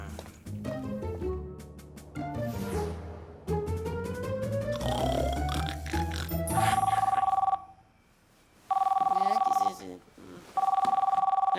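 Old-style telephone bell ringing in repeated loud bursts, three rings separated by short pauses, following cartoon music and voices.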